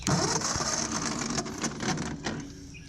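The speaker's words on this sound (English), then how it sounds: "we have a motor that turns and a starter switch that works" The starter on an old Ford 8N tractor cranks the engine with a steady, close mechanical whirring churn that runs throughout the three seconds without the engine catching.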